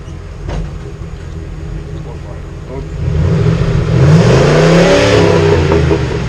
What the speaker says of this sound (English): rev it up in neutral